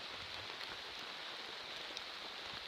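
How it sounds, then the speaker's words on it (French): Steady rain falling in a forest during a wet bushcraft outing, a dense, even hiss of drops on leaves and ground throughout, quiet and continuous with a few slightly louder drips, no talking. "Mais il pleut, c'est impressionnant."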